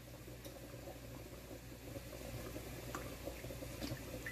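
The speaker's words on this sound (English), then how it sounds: "Now the chicken boiling" Chicken simmering in a pot of water for a Palestinian musakhan dish, a steady low bubbling and gurgling at an even, quiet level with faint pops on top.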